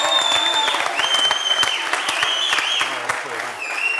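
A Tunisian sitcom's studio audience claps continuously in a full, even burst of applause, with scattered high whistles and faint voices threaded through the sound.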